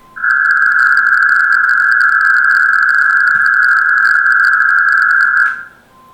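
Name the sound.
Aurora digital radio modem tones on Windows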